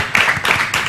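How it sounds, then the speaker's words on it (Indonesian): Studio audience at an Indonesian TV talk show claps for Fandi in a short, dense burst of applause, filling the brief moment with steady clatter. "Tepuk tangan sekali lagi dong buat Fandi"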